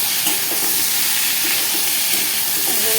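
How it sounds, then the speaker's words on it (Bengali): Potatoes frying in oil, a dense, loud, continuous hiss of sizzling without pause, close up. "দেখো আমি আলুগুলোকে একটু ভেজে নেবো ভালো করে"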